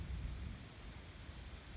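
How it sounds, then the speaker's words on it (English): Distant thunder rumbles low and steady through a rural farm setting near a barn, a soft continuous roll under faint rain-like hiss, with no voices. "I can hear the thunder rumbling"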